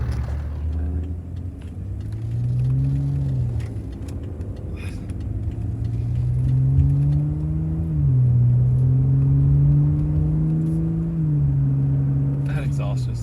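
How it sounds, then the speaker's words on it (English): A BMW F10 535i engine rumbles steadily through a loud, throaty exhaust with its valves open, its pitch rising and falling as the car accelerates and eases off. "That exhaust just sounds good."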